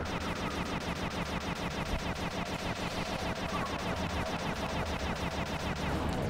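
Enemies in Sly 2: Band of Thieves on the PS2 fire nonstop, a dense, unbroken rattle of rapid gunshots that stays loud and steady from start to finish, with no talking over it.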